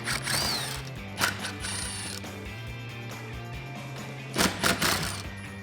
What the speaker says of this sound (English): we're going to be removing our 4 T20 Torx bolts